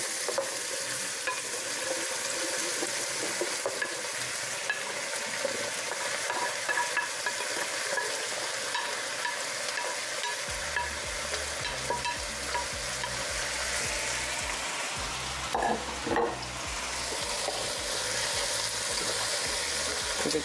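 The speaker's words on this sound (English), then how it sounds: "We'll saute the onions with the fennel just a little bit." Onions and fennel sauteing in a pan, a steady close sizzle with occasional stirring scrapes throughout, loud and continuous with no talking.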